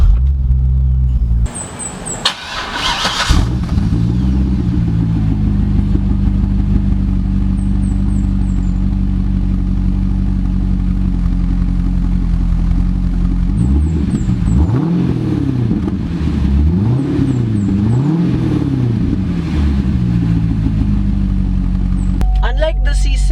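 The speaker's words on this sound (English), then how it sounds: "let's hear the exhaust" A 2012 Chevrolet Corvette C6 Grand Sport fires up with a sharp starter burst, then settles into a loud, deep V8 idle with several throaty revs swelling and falling near the end, while a person talks over it.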